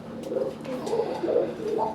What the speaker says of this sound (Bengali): লাল সাদা গোল্লা কবুতর